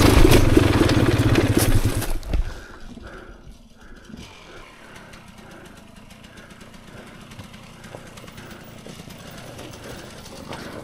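A Xtrainer dirt bike working over challenging off-road terrain. The engine roars loudly for about two seconds, then drops to a low, steady idle-like rumble with faint mechanical ticking for the rest.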